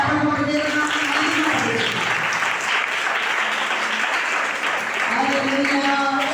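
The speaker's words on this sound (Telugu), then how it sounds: "చప్పట్లు దేవునికి" Congregation clapping for God during a Monday evening prayer meeting in Bethel prayer hall, Velanka: sustained, dense applause filling the hall for several seconds, with a voice and faint tonal sounds carrying over it.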